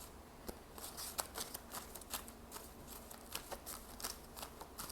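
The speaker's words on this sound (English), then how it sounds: "You see how I can't shuffle properly right now?" Tarot cards are shuffled by hand, giving soft papery riffles and sharp little snaps in an uneven rhythm, close and quiet in an otherwise still room.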